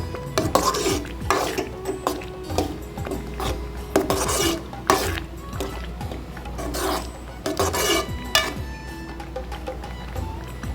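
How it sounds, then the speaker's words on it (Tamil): Tomato pickle stirred in hot oil in a pan, a close, rhythmic run of rasping scrapes from the spoon against the pan over a soft sizzle, with no voices. "நல்லா கிளறி விட்டுக்குங்க"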